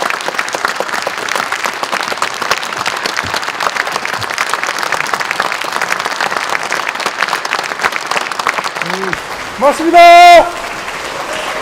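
A crowd at a People Power Party rally claps for a speaker in a long, steady, dense round of applause, with a voice briefly speaking over it near the end.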